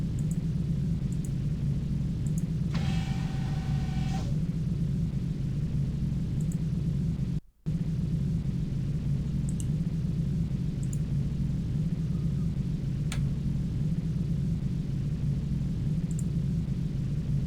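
A steady low mechanical hum fills the Deep Space Nine station interior in the 1996 game Harbinger, with a brief electronic tone rising above the drone and one short break in the sound.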